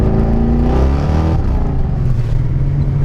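A 1971 Jaguar XKE with a 383 stroker engine accelerates hard with its wheels spinning, a loud, close, steady engine roar with rising harmonics that shifts pitch midway.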